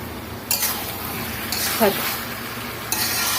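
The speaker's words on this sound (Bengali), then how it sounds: "বেগুনটা হালকা সিদ্ধ হয়ে গেছে, এখন আমি টমেটো গুলো দিয়ে দিচ্ছি।" Tomatoes go into eggplant cooking in a pan with rui fish curry: a continuous close sizzle with a few spoon scrapes and a soft clink of metal against the pan.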